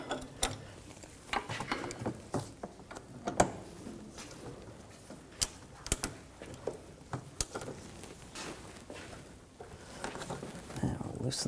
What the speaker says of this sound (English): Now we're going to remove the lower nut. I'm going to use a 18mm wrench and a 6mm triple square to hold the stud from spinning.